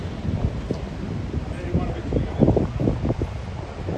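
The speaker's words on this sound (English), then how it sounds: "It's very, very windy." Strong gusting wind buffets a microphone near the waterfront around Hudson Yards in Midtown Manhattan, a steady rumbling roar with louder bursts, with faint city noise underneath.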